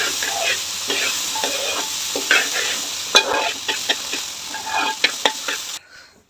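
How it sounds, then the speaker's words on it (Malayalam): Soaked, drained rice dry-fried and stirred in a pan until its moisture cooks off, a continuous sizzle broken by scraping stirs and a few sharp clinks of the spoon against the pan, close up. "ഒരു ഇച്ചിരി നേരം ഈ അരിയുടെ വെള്ളം ഒന്ന് വറ്റുന്നിടം വരെ ഒന്ന് വറക്കാം നമുക്കിത്"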